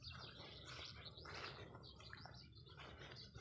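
Small birds chirp and tweet near a temple, a busy overlapping twitter mixed with brief wing flutters, quiet and somewhat distant over low background rumble.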